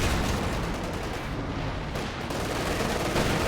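A KV-8 tank's barrage in a World War II strategy game roars as a dense, loud, continuous wall of rapid gunfire and explosions, close and unbroken throughout.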